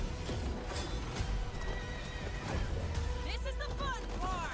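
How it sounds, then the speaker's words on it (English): Horses from a video game whinny and neigh with rising-falling cries over a busy backdrop of game noise and hoof clatter, the calls growing clearer and louder toward the end. "What's with the horses?"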